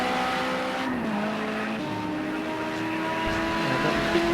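Group 5 race cars circling in a Project Cars 2 race on Xbox, several engines droning and shifting pitch together in a steady roar with faint tyre noise, no commentary over it.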